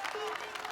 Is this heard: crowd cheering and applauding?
yes